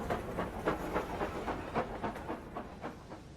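A train departs in the video game Dark City: Florence, with rhythmic clickety-clack and rolling rumble under a hissy wash, steady and moderately loud throughout.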